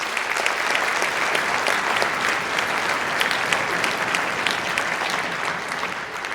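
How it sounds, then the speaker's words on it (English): A large audience applauds steadily at a senior high school winter band concert, a dense, even wash of clapping that holds loud and continuous throughout with no voices standing out. "if we can give them a round of applause"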